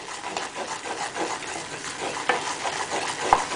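A roux for gravy made from pan juices is stirred in a pan, soft continuous scraping and sizzling at low volume, with a couple of sharper utensil clicks near the end.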